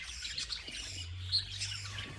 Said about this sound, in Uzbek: Bu joyda qushlarimiz mana sotiladigan, juflanadigan, dam olayotgan qushlar bular asosan mana.